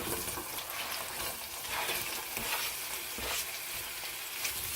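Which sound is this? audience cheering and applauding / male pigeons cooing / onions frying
onions frying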